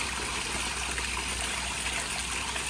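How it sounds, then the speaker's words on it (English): Water trickling continuously from a garden water feature beside a fish pond, a steady close splashing and bubbling wash with no pauses and no talk. "the water feature really adds to my garden, and the sound is very relaxing"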